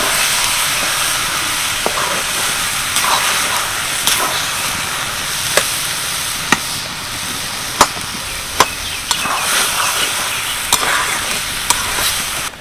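Hog plum pickle frying in a pan as sugarcane jaggery is stirred in: a steady broad sizzle and hiss with scattered sharp clicks of a spoon against the pan, close and continuous, no talking.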